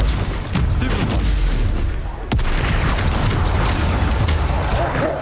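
A Bombarda spell blast in Hogwarts Legacy lands as a sharp boom amid constant loud combat noise, with one brief crack standing out against the dense background.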